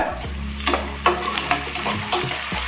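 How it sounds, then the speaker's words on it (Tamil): Onions and chopped green chillies sautéing in a pan for paneer biryani: a steady close sizzle with a low hum underneath, broken by several sharp spoon scrapes and stirs against the pan. "வெங்காயம் பொன்னிறமா வர வரைக்கும் வணக்கிக்கணும்."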